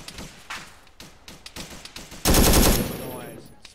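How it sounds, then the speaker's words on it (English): Gunfire in the combat game ArmA 3 Vietnam, with a string of single shots followed by a loud, close burst of rapid automatic fire that trails off into echo. "I don't know where those shots were hitting us from"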